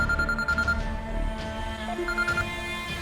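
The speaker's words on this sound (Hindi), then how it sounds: "सर, सफदर शाह का फोन आ रहा है इसके पास।" A mobile phone rings with an incoming call, a short repeating electronic ringtone in bursts, faint and somewhat distant under a background hum, with no speech.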